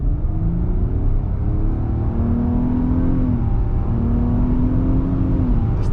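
A 2020 Nissan Maxima with a CVT revs steadily and loudly, its engine tone climbing, dipping and climbing again in repeated stepped sweeps like simulated shifts, with a continuous droning rumble underneath.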